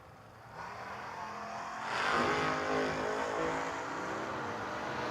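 Drag racing cars, including a Chevy Camaro, in a No-Box 660 shootout at a drag strip, engines droning from a distance and swelling louder midway as they accelerate, then holding a steady roar.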